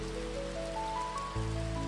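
Soft, steady rain patters in a continuous wash, with sustained tones rising step by step above it.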